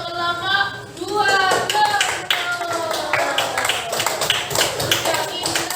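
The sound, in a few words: applause for group 2 in class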